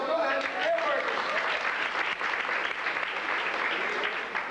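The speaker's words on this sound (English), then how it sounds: "You can clap yourself, go ahead." Dense, sustained applause from a crowd at a county fair talent show, steady and loud throughout with no pauses.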